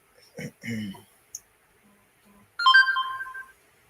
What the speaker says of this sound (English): So I'll turn on my phone.